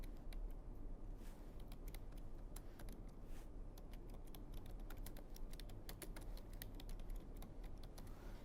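Typing on a computer keyboard while writing text in MS Word, a continuous patter of quiet key clicks with occasional sharper taps, close and faint, with no voices.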